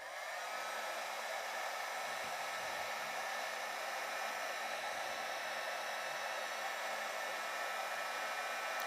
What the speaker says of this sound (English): just don't mind the heat gun fan noise for a moment here